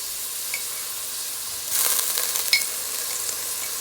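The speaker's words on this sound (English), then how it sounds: "We're gonna fry up the green seasoning and the onion" Chopped onion and green seasoning of garlic, pepper, green onion and thyme frying in a pan, a quiet steady sizzle that swells louder partway through with a few small pops.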